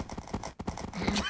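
Horse hooves clip-clop in a steady, fairly close rhythm in Minecraft, with a brief whinny near the end.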